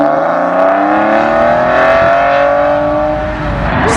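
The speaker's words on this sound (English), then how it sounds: "it's a nice straight road as well, which means some nice acceleration noises" A car accelerating hard along a straight, busy road near a classic and sports car meet, its engine note rising steadily and loudly, close by, then fading slightly toward the end.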